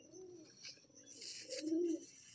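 A Madrasi pigeon at a loft coos softly and close, two low rolling phrases in quick succession over faint background hiss.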